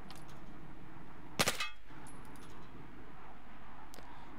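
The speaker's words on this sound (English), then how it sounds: "I'm just gonna fire a few shots" In Battlefield 4 gameplay, a G18 pistol fires a short burst of two or three sharp, loud shots close together, followed by a fainter single crack later, over a low steady game ambience.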